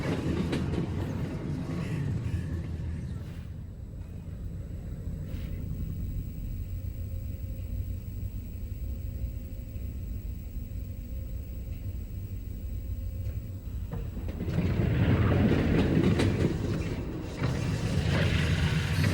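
Steady rail rumble of a train riding along its tracks in the VR game Half-Life: Alyx, with low clickety-clack and a swell in loudness near the end, no speech.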